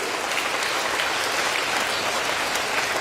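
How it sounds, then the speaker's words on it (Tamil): A seated audience at a Tamil talk claps loudly and continuously, a thick, close roar of hands without any voice on top. "இந்த கைதட்டு பத்தாதுன்னு நினைக்கிறேன் உங்க அம்மாக்கு"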